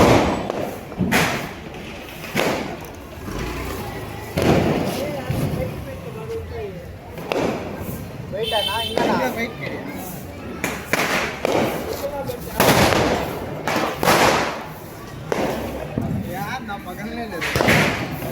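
Firecrackers at a Diwali celebration go off as repeated sharp, loud bangs and thuds spread through the scene, under and between steady conversation from people nearby.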